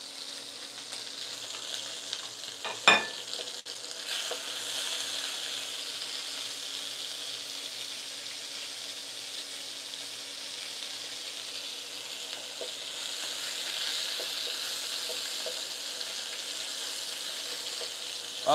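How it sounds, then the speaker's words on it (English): Angus bacon-wrapped sirloin steak frying in a pan, a steady continuous sizzle at moderate level with a brief clatter near the start, no talking. "I like the sound of the sizzle."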